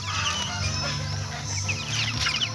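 Chickens cluck steadily and close by, several birds overlapping in a continuous busy chorus while they wait for feed.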